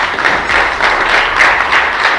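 An audience at a university entrepreneurial summit breaks into dense, loud applause, a steady wash of clapping that lasts a couple of seconds with no voices over it.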